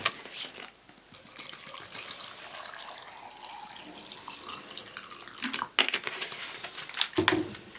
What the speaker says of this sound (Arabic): نعبيو الماء